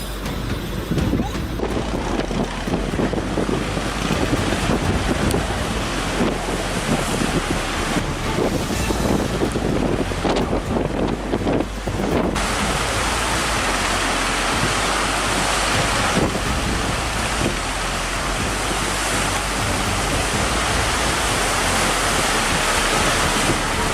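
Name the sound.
ship in storm with wind and big ocean waves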